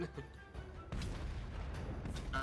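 Cannon fire from gunners in the video game Total War Warhammer 3, heavy booming artillery blasts layered over a dense rumbling battle din, loud and continuous with a stronger burst near the end.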